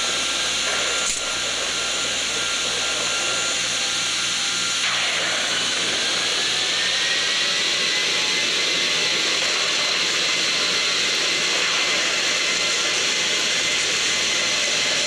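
Jet engines of a Delta 737 in a flight simulator game roar in a loud, steady whine and rush. The engines swell after a few seconds and keep droning evenly through the takeoff, with no speech.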